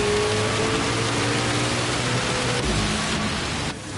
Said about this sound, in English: Rain still hammering down.